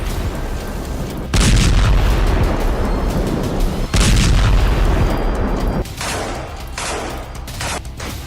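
Explosions from an Israeli army strike in southern Gaza arrive as loud, heavy booms and sudden blasts over continuous rumbling noise, with several sharp onsets followed by sustained roaring.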